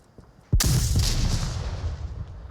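A C4 charge goes off in the VR shooter Onward during a competitive match, a single sharp loud blast after a quiet moment, followed by a long rumbling decay with faint distant shots.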